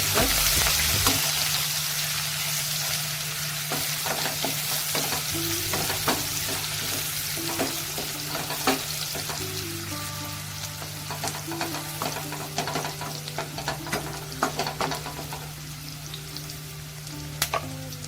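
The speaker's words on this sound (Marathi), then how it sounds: "आणि त्यानंतर एक बारीक चिरलेला कांदा टाकायचा आहे. त्यानंतर कढीपत्ता मिक्स करून घेऊया मस्त." Finely chopped onion and curry leaves sizzle steadily in hot oil while being stirred, with a constant frying hiss and scattered scraping clicks from the spoon throughout, close and alone with no voices.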